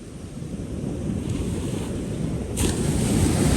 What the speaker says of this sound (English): Listen to that ocean, that's great.